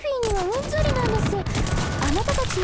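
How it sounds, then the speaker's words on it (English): Mortar fire from units in the Girls' Frontline mobile game, a dense barrage of repeated booms and thuds running steadily throughout, layered with whistling, swooping tones from the game's effects and soundtrack. "just spam mortars and have a taunt fairy for defensive reasons"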